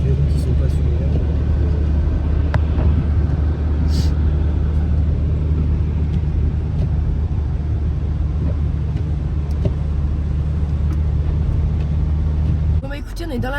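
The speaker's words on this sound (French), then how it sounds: "on est dans la voiture, ça avance pas" Heard from inside a car creeping along in a traffic jam, a steady low engine and road drone hums on without pause, with small knocks and rustles here and there.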